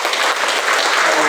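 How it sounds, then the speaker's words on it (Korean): An audience at a panel discussion applauds in a dense, loud burst of clapping that lasts the whole short stretch, with no voices over it. "다시 한번 박수 한번 주시고요."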